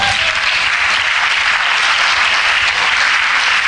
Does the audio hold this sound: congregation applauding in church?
yes